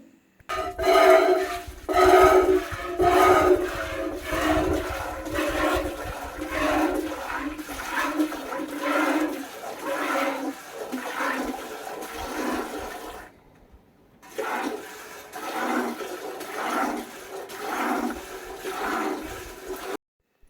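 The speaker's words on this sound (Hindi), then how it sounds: "जब दूध बाल्टी के साथ टकरा रहा है तो कितनी अच्छी आवाज़ आ रही है" Milk streaming into a metal bucket as a cow is hand-milked, heard as steady rhythmic squirts that pulse about once a second for twenty seconds, with one brief pause near the middle.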